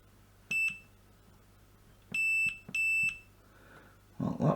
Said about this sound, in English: As I'm pressing it there, it's beeping.